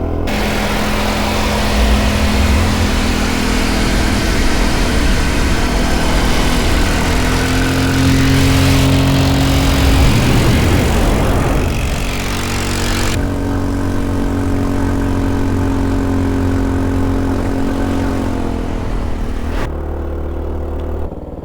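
A Motobravo Roma 150cc scooter engine idles close by with a steady, buzzing mid-pitched putter that swells and dips briefly near the middle, then settles back into an even idle. No one speaks.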